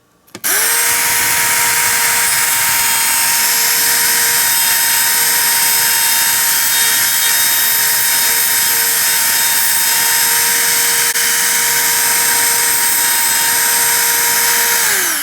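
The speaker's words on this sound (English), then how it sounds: "So I just Dremeled inside here." Dremel rotary tool grinding material inside a DeLorean DMC-12 headlight frame, a loud steady high-pitched whine that spins up quickly and holds constant for about fifteen seconds, close and alone.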